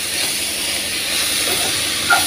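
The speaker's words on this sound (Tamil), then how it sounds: "ஸ்டீம் வந்து கம்மியாக வச்சிடுவோம்." Steady, soft hiss of steam from a pot of carrot and beans poriyal cooking on a stove, constant and even for the whole moment, with a faint clink near the end.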